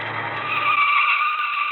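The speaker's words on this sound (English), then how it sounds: "And here comes a car." A car rolls in as a radio drama sound effect, a steady broadband roar with rising tire hiss that swells slightly as it nears, heard alone with no voices.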